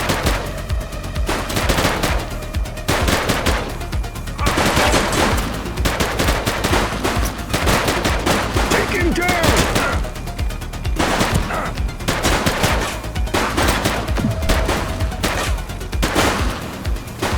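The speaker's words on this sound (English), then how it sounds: "Shots fired!" Gunfire in the police shootout game The Precinct: sustained, loud bursts of automatic and rapid shots crackle in repeated waves with brief lulls between them, close and intense.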